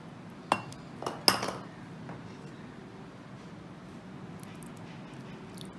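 Cut jellies stirred gently by hand into strawberry ice cream for Lab e Shireen, heard as a few faint clinks and taps of a utensil against a bowl early on, then quiet kitchen ambience.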